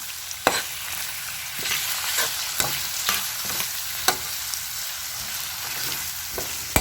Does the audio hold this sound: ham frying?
yes